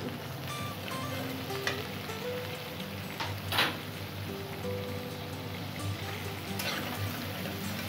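Onions frying in a pan for an egg pasta, a soft continuous sizzle with scattered crackles and a few brief stirring scrapes, fairly quiet and without talk.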